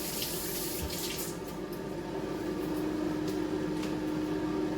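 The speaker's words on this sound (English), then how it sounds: "So now, quick wash again, little soapy, little rinsey." Kitchen tap water runs steadily while hands and utensils are washed with soap between steps of preparing a venison sprout salad. A constant, close rush of water fills the sink throughout, with faint clinks and no voices.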